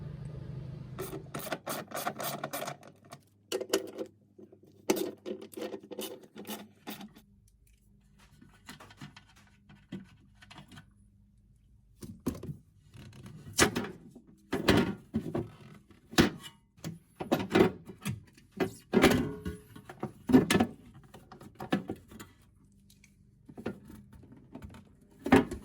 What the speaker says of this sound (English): This tray is only held in by 4 13mm bolts, so we'll remove these quickly and remove the tray